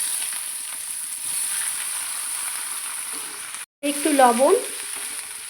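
About four chopped onions frying in oil over whole mustard seeds give a steady, close crackling sizzle, briefly cut off, then resuming as a voice speaks a few words over it.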